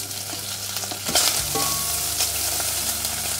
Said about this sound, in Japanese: でベーコンを加えて炒めていきます。